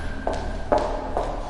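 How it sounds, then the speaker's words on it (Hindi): Three slow footsteps in a dark, empty office floor, each a soft, hollow thud spaced about half a second apart over a low background hum, approaching in a tense horror scene. "तभी उस अंधेरे के बीच से मुझको किसी के चलने की आवाज़ आने लगी।"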